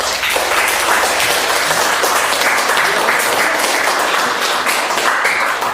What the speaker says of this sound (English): And give applause to your friends.